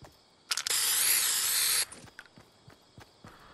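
Spray paint hissing from a Marshmello spray in Fortnite gameplay: one loud, steady hiss of about a second and a half, followed by faint scattered game clicks and footsteps.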